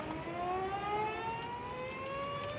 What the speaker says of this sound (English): The siren on top of the ferry building. Blows 3 times a day, just like now.